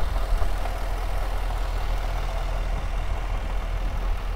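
A 2014 Jaguar F-Type S with a supercharged 5-liter V8 idles nearby, giving a steady, smooth low rumble with an even hum and no talking.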